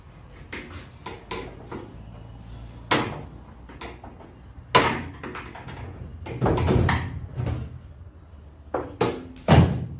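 A car door is worked off an abandoned VH Holden Commodore during a rebuild, with a series of sharp metallic thunks, knocks and clatters at irregular intervals, close and loud against a quiet workshop.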